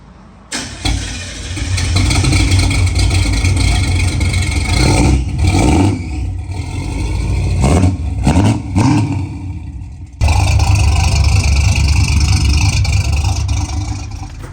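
A 1978 Chevy Sport pickup truck engine idles and revs through a newly fitted exhaust with a deep, throaty rumble, loud and close, swelling in a few bursts and holding steady.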